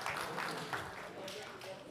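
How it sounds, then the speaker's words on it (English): A room of attendees at a breakout session gives a team a round of applause, a moderate, continuous patter of many hands clapping that holds steady throughout, with a voice faintly underneath. "So let's give a round of applause to this team for modelling that for me."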